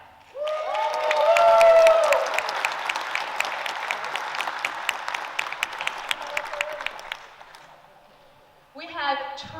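A PAX Aus panel audience bursts into applause with some cheering, swelling quickly, then settling into scattered claps that fade away before a voice speaks.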